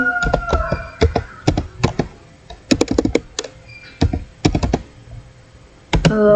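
Keys clatter on a computer keyboard in short bursts of close, sharp taps, with a few heavier single strikes and quiet gaps between runs.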